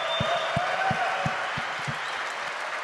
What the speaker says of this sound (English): everybody needs to give him a round of applause because he's great